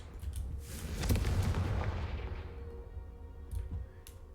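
Fiery Confringo spell blasts from the video game Hogwarts Legacy, a loud booming explosion that swells and rumbles through the middle, followed by a quieter second burst near the end, with no talking.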